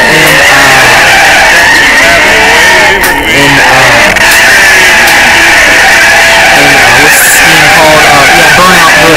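A Ferrari 458 Italia drifts in the racing game Burnout Drift, a very loud, sustained tire screech over a droning high-revving engine, continuous and close throughout.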